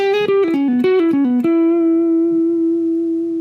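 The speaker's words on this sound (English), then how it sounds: "I don't want to overlook that vibrato on that note" An electric guitar plays a quick run of picked notes, then settles on one long sustained note that wavers gently with vibrato, loud and clear.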